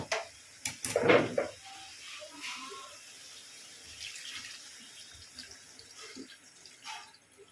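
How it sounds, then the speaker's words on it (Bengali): Water is poured from a tap into a pot of tomato curry with taro root and eggs, a brief loud gush near the start followed by quieter trickling and faint kitchen clatter, close by. "এবার আমি পরিমাণ মতো জল দিয়ে দেবো"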